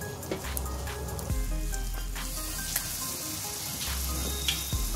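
Tomato and onion paste frying in hot oil for a curry, a close, crackling sizzle with scattered pops and occasional scraping, steady throughout with no talking.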